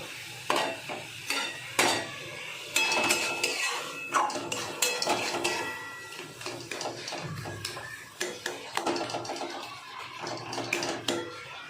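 Taro leaves stirred in an oiled pan over high heat, giving repeated scraping and clinking strokes with a soft sizzle underneath, close and fairly steady.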